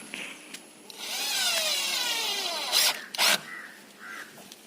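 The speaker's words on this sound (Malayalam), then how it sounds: "നമുക്ക് സ്ക്രൂ ചെയ്ത് ഉറപ്പിക്കാം." A power drill driving screws through an old tyre into a frame while building a DIY cage from old tyres, one long rising and falling whir followed by two short loud bursts, close by with no talk.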